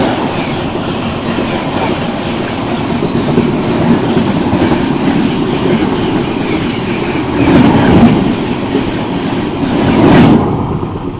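The Udyog Nagri Express rushes past close alongside on the next track, a loud, steady rumble with rhythmic wheel clatter that surges twice near the end, with no voices.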